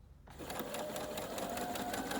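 A sewing machine stitches a hem strip for a Ban-Roll waistband hem, its motor starting up and running at a steady fast whir close by, with no talk.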